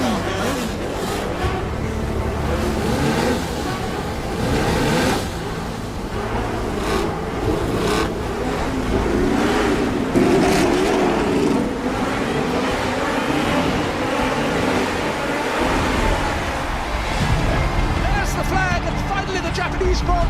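Formula 1 cars roaring away at the start of the Japanese Grand Prix in wet conditions, including a six-wheel Tyrrell among a 25-car field of 450 horsepower cars. A steady, loud engine din is heard under continuous commentary.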